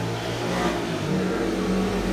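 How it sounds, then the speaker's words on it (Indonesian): A motorcycle passing by outside, a steady, fairly loud engine drone that holds at an even level throughout. "kenapa ya setiap aku nge-video pasti banyak banget motor lewat."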